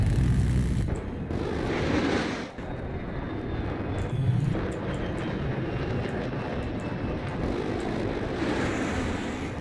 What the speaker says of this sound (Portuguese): É, tô vendo um helicóptero inimigo.